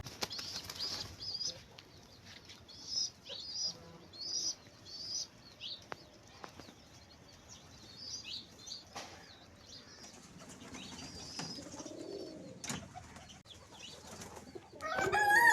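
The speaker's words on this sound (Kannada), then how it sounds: "ನೋಡಿ ಇದು ನಮ್ಮ ಪಕ್ಕದ ಮನೆಯ ಪಾರಿವಾಳ ಅಲ್ಲಿ ತುಂಬ ಪಾರಿವಾಳ ಉಂಟು" Many pigeons at a house next door flap their wings in repeated bursts, with soft bird calls and rustling in between, moderately close and without talk.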